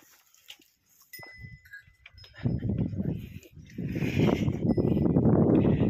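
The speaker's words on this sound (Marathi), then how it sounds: "आणि ह्याच गाईचे एक वासरू पण आहे" A newborn cow calf on a farm gives bleating calls, sparse and quiet at first, then louder and more continuous with rough, noisy bursts toward the end.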